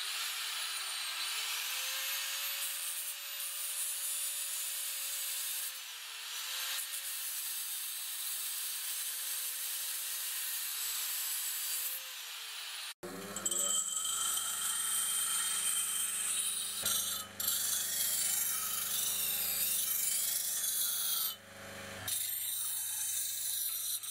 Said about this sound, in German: Und dazu flexen wir da erstmal ein bisschen was ab und tun es dann hier noch schön schleifen